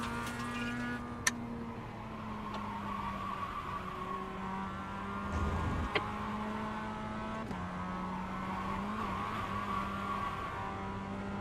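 A Mazda MX-5 Cup race car in iRacing at Lime Rock Park slides through a chicane with a steady engine drone whose pitch dips and climbs, tyres scrubbing, and a few brief clicks and bumps.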